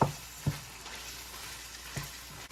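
Vegetables and ground beef frying together in a pot for a one-pot dirty spaghetti, a steady soft sizzle with a few quick stirring knocks, no talking.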